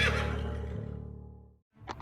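A magical horse in an animated Hindi story gives one loud, long neigh that fades out, followed by a brief second whinny after a short silence.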